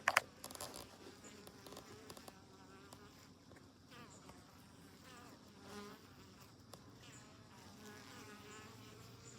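Honey bees buzz around their hive while hauling in pollen on their legs, a faint, continuous, wavering hum of many wings close by, with a few soft knocks at the very start.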